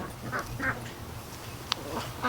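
A full-grown farm duck near its pen gives a few faint, scattered quacks against a quiet outdoor background, with one sharper call standing out.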